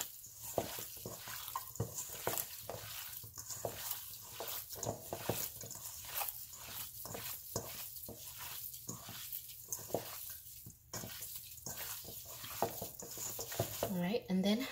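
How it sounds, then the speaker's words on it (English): Beef tartare laab is mixed thoroughly with fish sauce, giving a series of faint wet squishing and stirring sounds in an irregular rhythm, with brief talk near the end. "I'm going to thoroughly mix it again."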